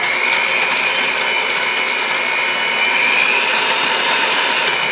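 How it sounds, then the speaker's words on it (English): An electric hand mixer whips three eggs in a large bowl with a steady, loud high-pitched whine and a gritty rattle of beaters against the bowl, running alone without pause. "I'm going to grab my mixer. I'm just going to start whipping these up."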